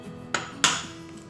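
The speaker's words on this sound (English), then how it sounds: "I'm going to put the egg in this little dish here" A raw egg is set into a small dish during grain-free bread prep, making two sharp, close clinks about a third of a second apart, the second louder with a short ring, in a quiet kitchen.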